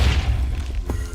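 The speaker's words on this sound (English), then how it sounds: "I heard an explosion." A single low boom from an in-game explosion in Minecraft's Agrarian Skies 2 modpack, a heavy rumbling thud that rolls out across about a second, fairly loud and with no talk over it.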